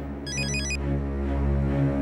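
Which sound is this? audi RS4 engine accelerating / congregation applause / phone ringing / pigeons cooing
phone ringing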